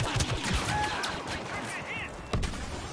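Blaster fire in a Star Wars Battlefront online match, a dense clatter of rapid shots spread across the clip with a louder burst near the end, with faint talk over the action.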